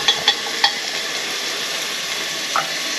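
Pulao with vegetables and spices is stirred in a pan: a steady bright hiss of frying fills the clip, with a few light spoon taps against the metal near the start and once toward the end.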